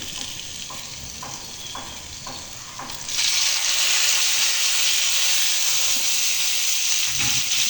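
Fried eggplant pieces sizzle and fry with spices in a pan, a steady close hiss that swells louder a few seconds in, with faint stirring scrapes early on.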